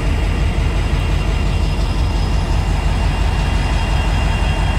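A loud, steady low rumble of heavy freight train locomotive engines drones continuously, close by, with no voices.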